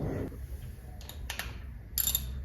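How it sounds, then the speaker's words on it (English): Small ratchet clicks and metallic ticks while unscrewing 10mm bolts on a Corvette LT1 fuel rail, quiet and sparse with a few short bursts of clicking against a faint background hum. "Then we hopped up top and unscrewed all 4 10mm"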